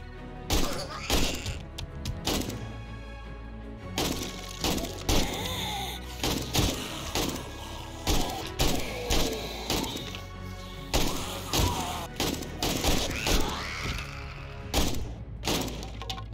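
Rapid bursts of AK rifle gunfire in the survival video game 7 Days to Die crack out again and again in a steady rhythm, loud and punchy over a dense game soundscape.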